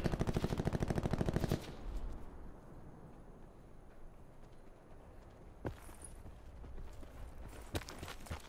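Distant rapid gunfire rattles in Call of Duty: Black Ops 4, a fast burst of shots in the opening second and a half, then quieter ambience with a few faint scattered sounds.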